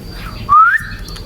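Female canary calling to a male, a single clear rising whistle-like chirp lasting about a quarter second, close and fairly loud over a quiet low background hum.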